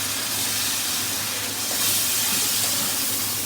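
Shrimp hitting hot oil and spice masala in a pan with malabar spinach, giving a continuous, even, close hissing sizzle that holds steady for the whole stretch with no voice over it.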